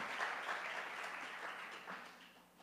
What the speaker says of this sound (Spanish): Let's give an applause to God.